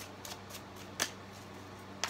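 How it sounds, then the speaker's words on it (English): Quiet, brief riffling snaps of tarot cards being shuffled on a table, a few scattered bursts against near silence. "when I'm shuffling these cards"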